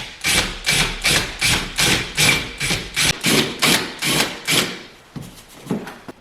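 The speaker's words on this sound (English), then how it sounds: "now we're going to make a slight recess in the pre-drilled pilot holes" Countersinking pre-drilled pilot holes in wood on a wall for a coat rack, heard as a steady run of about a dozen rhythmic grinding strokes, close and even, then a few lighter scrapes.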